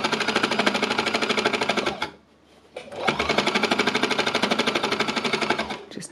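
An embellisher machine runs with a fast, even needle-punching chatter, close and loud, pausing briefly before starting up again.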